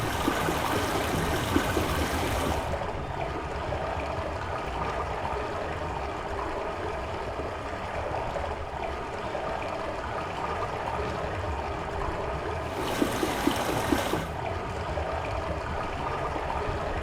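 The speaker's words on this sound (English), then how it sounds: "I got water flowing through the hose and into the pipe" Water flowing through a hose and into a pipe in the Myst VR game, a steady, fairly faint rushing stream that continues evenly throughout.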